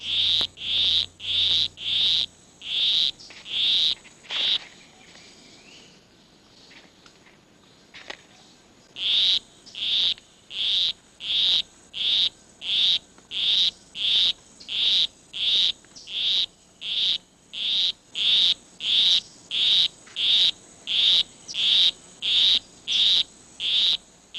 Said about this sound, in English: A male poison arrow frog is courting a female. With his monotonous song, he will try to entice her